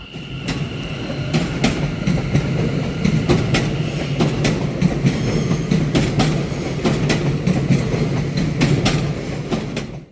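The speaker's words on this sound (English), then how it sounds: "It's that click-clack sound you hear as the trains go across them." Inside a moving train on a British railway, a steady rolling rumble carries repeated sharp clicks as wheels pass over rail joints, spaced at irregular intervals.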